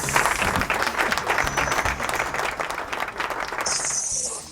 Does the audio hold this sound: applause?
yes